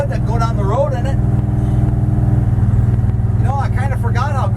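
A Dodge drag truck with a 5.9 Magnum engine drives down the road, its steady low engine drone heard from inside the cab while someone talks over it at the start and end.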